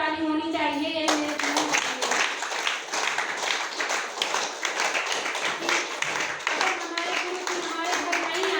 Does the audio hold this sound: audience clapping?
yes